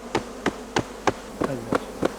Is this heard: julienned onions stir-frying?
no